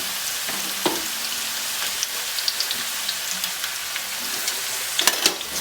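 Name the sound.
meatballs frying in a pan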